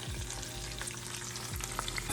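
Raisins and cashews fry in hot ghee with a steady, close sizzle, stirred in the pan with occasional soft scrapes, and no talking.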